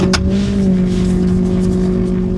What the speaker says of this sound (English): This truck's one of the older ones we have, so it doesn't... She don't sound the best.